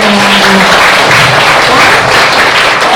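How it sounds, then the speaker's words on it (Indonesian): A classroom group bursts into loud, sustained applause, many hands clapping together in an even wash that fills the whole moment. "Berikan applause"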